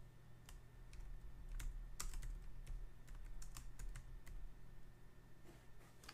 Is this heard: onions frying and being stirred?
no